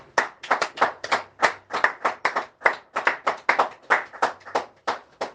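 Rhythmic group clapping by a church congregation at a French-language sermon, steady sharp claps repeating about three or four times per second, close and lively, with no cheering voices standing out.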